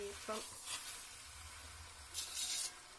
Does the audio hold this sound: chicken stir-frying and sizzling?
yes